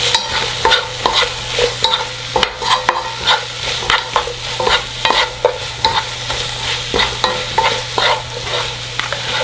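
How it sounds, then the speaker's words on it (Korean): Onion and green onion stir-fried with half the seasoning sauce for spicy webfoot octopus: a steady sizzle with repeated scraping stirs of a spatula against the pan, close and fairly loud, no voices. "양념장을 먼저 반만 넣어서 같이 볶아줄 겁니다."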